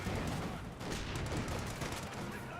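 An artillery barrage in the video game Company of Heroes 2, a dense continuous rumble of explosions and gunfire, distant and muffled, with no clear individual blasts.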